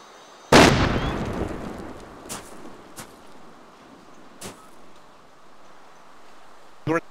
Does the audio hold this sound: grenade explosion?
yes